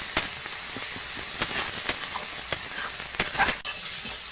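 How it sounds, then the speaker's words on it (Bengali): Ginger paste and masala frying in hot oil for a pangas fish bhuna, a loud continuous sizzle broken by repeated spatula scrapes and stirs. "এবার দিয়ে দেবো আদা বাটা। মশলাটা ভালো করে কষিয়ে নেব।"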